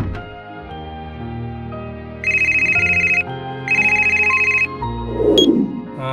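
A mobile phone ringtone plays loudly and close in a home setting, a melodic tone repeating in two long bursts before cutting off with a short clatter.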